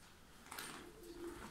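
Pigeons cooing in an apartment room given over entirely to them, among them Kanat Postal and Malatya breeds, soft low murmuring coos close by in a quiet indoor space.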